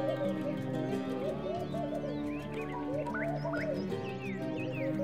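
Laughing doves, also called palm doves, cooing in soft repeated phrases over a busy background of other birds chirping and calling nearby, steady throughout.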